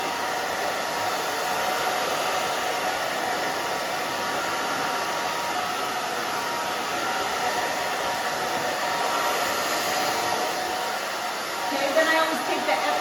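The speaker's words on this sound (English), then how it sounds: "And then back and forth with the fingers, back and forth with the blow dryer." A handheld blow dryer drying a short pixie cut runs steadily in a salon, a continuous loud airy whoosh with a fixed high whine, briefly shifting near the end as it moves back and forth.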